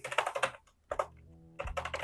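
Quick bursts of keystrokes on a computer keyboard while writing JavaScript comparison operators, close-up clicks in short clusters separated by a brief pause.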